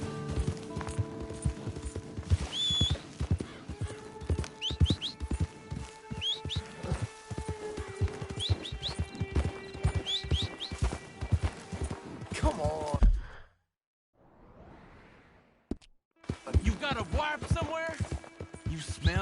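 Steady clip-clop of horse hooves at a walking pace in the video game Red Dead Redemption 2, with music and spoken voices over it, briefly dropping to near silence before resuming.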